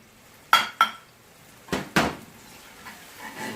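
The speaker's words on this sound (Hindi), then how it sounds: "अब इसमें टूना फिश 200 ग्राम डाल लेते हैं।" Tuna fish, 200 grams, tipped into ready masala in a cooking pot, giving four short metallic clanks and clatters of spoon against pot, two quick ones then two more a second later, fairly close and with no talking.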